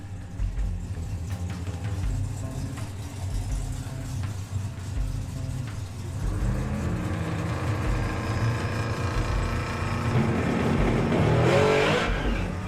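Drag race cars launching off the line at a Street Eliminator event, engines roaring loud and continuous, with a harsher, rising burst of revving and tyre noise building toward the end.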